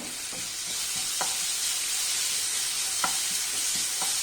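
Mango pickle being stirred in a pan over the flame, a steady close sizzle punctuated by several distinct spoon scrapes and taps at irregular intervals, no speech.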